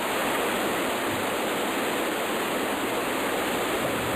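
Lalawan Falls, a hidden waterfall at the foot of Mount Dulang-Dulang, roars in a steady, dense broadband rush that stays even and unbroken throughout, with no voices.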